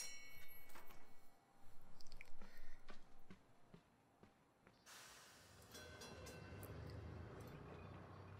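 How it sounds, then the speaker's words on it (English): A train moves along tracks in the puzzle video game Gorogoa, first with rhythmic clattering pulses, then a steady rushing hiss that swells and holds, with no talk. "now we've got the train moving around the tracks"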